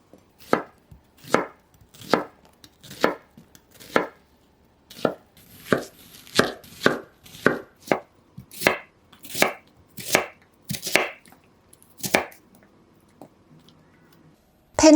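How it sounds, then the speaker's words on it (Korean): Knife chopping onion into small pieces on a board, about twenty crisp evenly spaced chops, steady at first and then quicker, close and clear with no talk, ending in a short pause. "양파는 작은 크기로 썰어줄게요."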